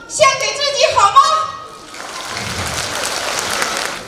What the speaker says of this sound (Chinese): 请大家把最热烈的掌声献给自己好吗？